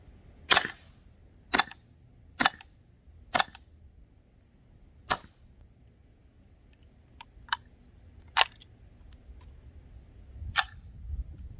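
A VZ61 .22 LR braced pistol with a suppressor fires several spaced single shots, sharp close cracks separated by pauses, the last shot fired with the bolt held closed, followed by softer clicks.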